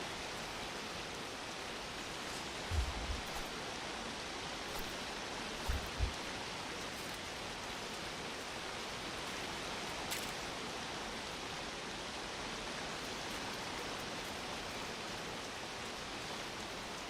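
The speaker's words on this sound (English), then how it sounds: "we've ended up at the top of the waterfall somehow." Rushing water at the top of a waterfall in the video game Metal Gear Solid Delta, a constant broad roaring wash with a couple of faint low thumps, no talking.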